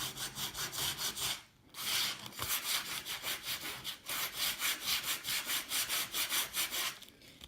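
Heavy sandpaper rubs back and forth across the edges of a painted wooden sign in quick rhythmic strokes, close and scratchy, with a couple of brief pauses between runs.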